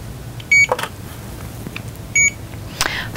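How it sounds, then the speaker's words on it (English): A Clear Reader Plus reading machine beeps while warming up, giving two clear, evenly spaced electronic tones close by over a quiet background hum, with faint handling clicks in between. "Now I'm going to turn on my clear reader with the button on the right, and it's going to make some beeps."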